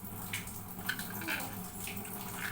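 Water runs steadily from a kitchen tap while something is washed during cooking, a close, continuous splashing wash with faint dripping.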